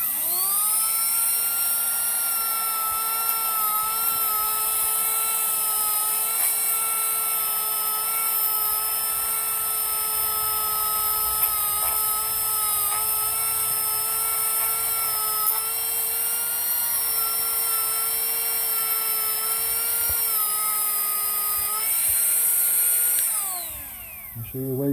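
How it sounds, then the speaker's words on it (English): A Dremel rotary tool with a soft brush cleans carburetor parts during a 717 carb rebuild, giving a steady, close, high-pitched whine that holds for over twenty seconds before spinning down at the end. "this is where Dremel tool and soft brush comes in handy"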